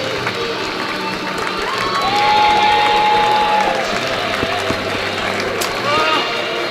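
A stadium crowd applauds and cheers as a women's team walks a lap in front of the West Stand before a match against Walsall. The roar is loud and sustained, with voices talking close over it.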